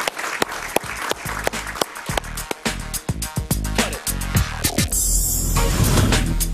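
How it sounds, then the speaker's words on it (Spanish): A studio audience claps loudly and steadily for Venezuelan politician Diego Arria on a talk show, with sharp individual claps, a swelling burst near the end and no talk over it. "Un aplauso para Diego Arria."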